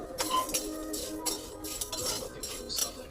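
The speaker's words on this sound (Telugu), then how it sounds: "ఇలా మధ్య మధ్యలో తిప్పుతూ వేయించేసుకున్నాం." Whole spices for homemade garam masala roasting in a pan over low heat, stirred with a metal spoon in a series of quick scraping, clinking strokes that repeat irregularly at close range.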